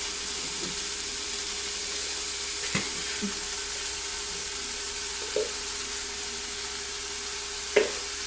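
Tomatoes and green chillies for paneer bhurji frying in a pan, a steady even hiss of sizzling with a few soft stirring knocks, close and continuous without speech.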